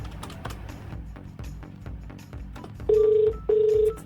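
A phone dialed for a radio prank call: soft keypad clicks and tapping, then two long ringback tones close by with a short gap between them.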